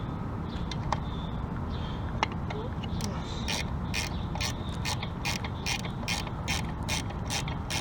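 A ratchet removes a bolt from a Chevy Malibu during half-shaft removal. Its crisp clicking arrives in quick, regular strokes, sparse at first and then steady in the second half, heard close over a constant low background hum.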